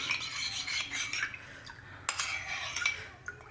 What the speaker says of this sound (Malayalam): ഇത് ഒഴിക്കുന്നതിന് മുമ്പ് നന്നായിട്ടൊന്ന് മിക്സ് ചെയ്യാം